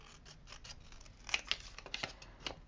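Scissors snip through paper while trimming a La Primavera configuration box, a quick series of close, crisp cuts that grow sharper and louder midway, with a few softer snips around them.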